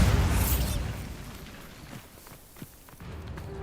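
Bombarda blasting spell detonating in Hogwarts Legacy, a loud, rumbling explosion at the start that decays into debris and scattered footsteps.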